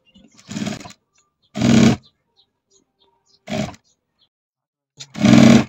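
Sewing machine stitching blouse sleeves, running in four short bursts of whirring motor sound separated by near-silent pauses.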